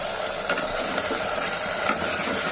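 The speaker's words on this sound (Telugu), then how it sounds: "ఇప్పుడు టమాటా మనం వెల్లుల్లి టమాటా వేసేసి కలుపుకోవాలి" Garlic and tomato being stirred into frying cauliflower rice in a pan, a steady close sizzle with scraping stir strokes and faint clicks running throughout, no voices.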